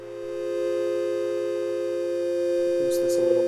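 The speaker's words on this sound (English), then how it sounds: "create a more sine wave, smoother tone." A smooth, sustained sine-wave synthesizer tone built for ambient music, holding steady and loud across the clip with a brief brighter flicker near the end.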